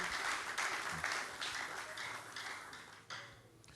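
A church congregation applauds and cheers for grace during a French-language sermon, a dense wash of clapping that stays steady and loud, then eases after a brief dip near the end.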